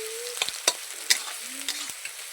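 Chopped onions hit a hot pan in a Sundarban village kitchen, crackling and sizzling steadily with a few sharp spatters and stirring scrapes over a couple of seconds.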